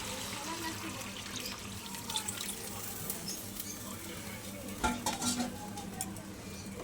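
Boiled water poured into a pan of spicy sizzling mutning mutton kosha, giving a steady bubbling, hissing wash of sound throughout with a brief louder burst near the end.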